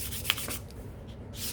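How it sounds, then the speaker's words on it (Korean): Sandpaper rubs a worn, cracked leather bag handle smooth in short, close scratchy strokes, some firmer and some lighter, with a soft tap partway through. "사포로 평면을 만들어 준다 생각하고"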